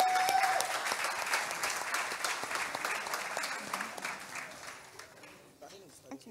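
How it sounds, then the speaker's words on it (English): An audience at an open source festival keynote claps for a speaker in a sustained, moderately loud round of applause that fades toward the end, with a voice starting to talk over it. "please give him a round of applause"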